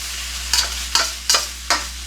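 Thinly sliced potatoes frying in a pan for Cajun andouille sausage potatoes with shrimp, a steady close sizzle broken by four evenly spaced bursts of stirring or tossing.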